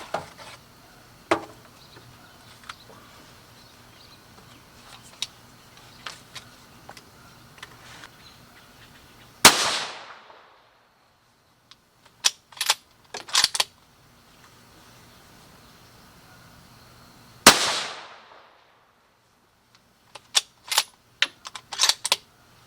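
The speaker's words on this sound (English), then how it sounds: "Alright, there's our 3-shot group" Three sharp, loud rifle shots from a Christensen Mesa .308 Win firing Federal Premium 165-grain Sierra GameKing loads, widely spaced, each cracking and decaying, with light clicks and handling noises between them.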